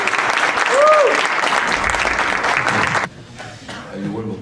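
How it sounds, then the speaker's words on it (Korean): Lecture audience gives loud, dense applause to welcome a professor at an opening session, a close wall of clapping that abruptly stops after about three seconds, followed by a quieter stretch with a voice beginning to talk. "박수로 환영해 주시죠."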